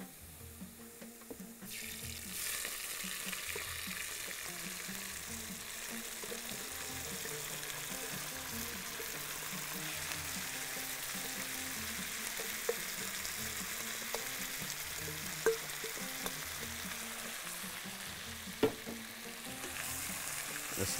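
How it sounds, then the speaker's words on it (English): Potatoes frying in a pan for a Bahraini dish give a steady, close sizzle that carries on throughout, broken by a few sharp clicks and scrapes of stirring, with no talking. "Now the potatoes are fried a little bit"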